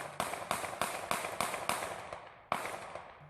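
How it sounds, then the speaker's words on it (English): A police officer fires eight gunshots outdoors: seven sharp, evenly spaced cracks in quick succession, then a short pause and one final shot, each with a trailing echo. "8 shots, and 4 seconds later, the 50-year-old man falls to the ground"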